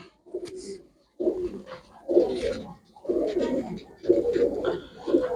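Pigeons at a market cooing in close, repeated throaty bursts about once a second, loud and near, with no talk heard.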